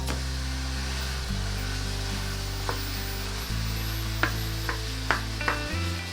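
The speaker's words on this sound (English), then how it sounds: "now we're gonna cook the ground beef on a medium low" Ground beef sizzles in a little olive oil on a stove over medium-low heat, a steady close frying hiss with a few scraping stirs and clicks, no talking.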